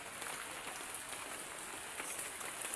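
Steady, soft hiss of rain falling, an even wash of patter with no voices.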